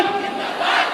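A protest crowd of contract workers on hunger strike chants Inquilab Zindabad in unison, a loud, dense wall of massed voices that swells slightly toward the end of a brief burst.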